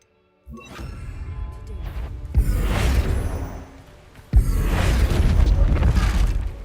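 Two heavy spell blasts from a Confringo cast in Hogwarts Legacy, each a sharp booming onset that swells into a loud, rumbling crash lasting a couple of seconds, the second slightly stronger, over a low game ambience.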